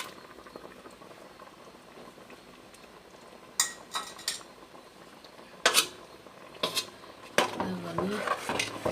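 Ground coconut and cumin paste goes into a pot of simmering mutton curry over a low bubbling hiss, broken by scattered clinks and scrapes of a utensil against the metal vessel.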